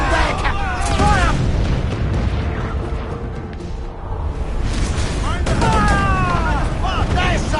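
Ship cannons fire in an Assassin's Creed IV naval battle, with heavy booming blasts and rumbling roar filling the stretch, and shouted crew voices over the barrage.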